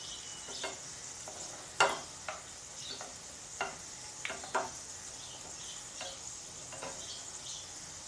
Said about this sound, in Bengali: তল সাইডটো ফ্রাই হবলৈ দিব প্ৰথমে এদৰে অলপ অলপ তেল দি দিব ইয়াত